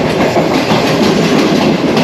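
Green Line passenger train running on rails in Pakistan, a loud, continuous rumble with a steady clatter of wheels, heard from on board and close up without any speech.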